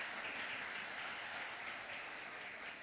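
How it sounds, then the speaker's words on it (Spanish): A church congregation claps in steady, dense applause to welcome newcomers, a continuous even wash of hands for a few seconds with no voices over it. "Otro aplauso."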